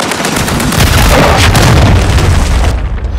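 A cruise missile launch explodes in a military shooter video game as a loud, continuous booming roar that swells and rumbles for about three seconds with crackling bursts over it, then cuts off sharply.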